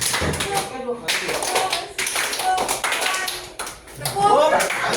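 Students clapping hands during a classroom game, short bursts of rhythmic claps and taps mixed with lively talk from a teacher and children nearby.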